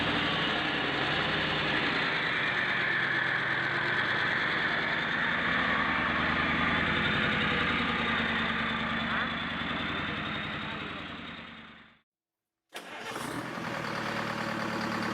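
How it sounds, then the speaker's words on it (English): A recently rebuilt Detroit Diesel 4-53T two-cycle diesel engine runs at idle around 500 RPM on a temporary cooling system, a loud, steady drone that cuts out near the end and then resumes, with a voice talking over it. "With a temporary cooling system in place, it's tested at idle approximately 500 RPM"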